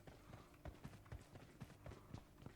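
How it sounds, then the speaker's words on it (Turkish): Footsteps in the video game PUBG Mobile thud in a quick, uneven running rhythm, quiet and muffled, with soft impacts repeating steadily. "Bu arada ayak sesi var."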